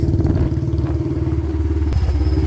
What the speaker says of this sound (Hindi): देखो आर्यन के पापा चला रहे हैं बाइक